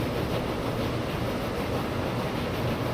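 Passenger trains in Transport Fever 2 rolling along track at 50 km/h, a steady, dense rumble of wheels and rail noise that holds unbroken, with no voices.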